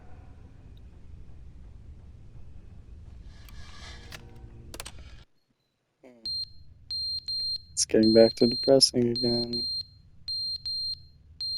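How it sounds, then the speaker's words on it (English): A beeping alarm in the video game The Stanley Parable sounds as repeated high, thin electronic beeps in the second half, overlapping a spoken voice. "I don't like the beeping."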